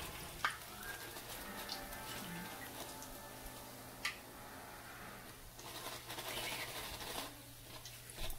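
Bottle gourd vadas fry in hot oil with a faint, steady sizzle and scattered soft ticks and pops.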